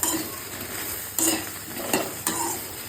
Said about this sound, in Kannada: ಈ ಬೆಂಡೆಕಾಯಿನ ಯಾಕೆ ಹುರಿತಾ ಇದ್ದೀನಿ